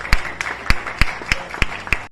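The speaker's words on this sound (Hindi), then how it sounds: "ठोको ठोको ताली ठोको।" An audience claps in unison, seven sharp, evenly spaced claps about a third of a second apart, loud and close, ending in abrupt silence.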